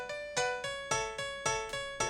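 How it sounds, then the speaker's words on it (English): Piano tracks in a Logic Pro X session, panned to the centre, strike eight evenly spaced notes or chords, each decaying before the next, played quietly and alone. "So the pianos sound like this right now."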